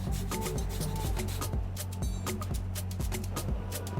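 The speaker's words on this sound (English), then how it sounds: "a garnish that really works well, releasing all its essential oils, is an orange on a microplane, just zesting it right on top" An orange is zested on a microplane right over a bacon and leek couscous, giving quick, rhythmic rasping strokes close by, with some irregular scrapes and no talk.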